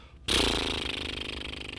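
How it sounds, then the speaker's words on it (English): A sudden fluttering buzz of lips blown into a trill starts after a brief quiet and carries on steadily, close and fairly loud. "a very basic one. It's called a lip trill,"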